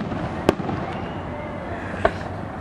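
Fireworks bursting outdoors: two sharp, distant booms about a second and a half apart over a steady background rumble, with no talk.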